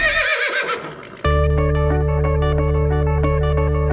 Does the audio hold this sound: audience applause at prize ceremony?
no